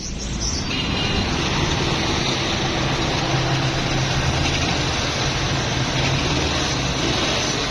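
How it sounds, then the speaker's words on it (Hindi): A Suzuki Mehran idles with a fault code P0201, injector circuit open on cylinder one, missing on that cylinder: a close, steady, rough engine hum with a continuous broadband hiss and no talk. "ये गाड़ी स्टार्ट है।"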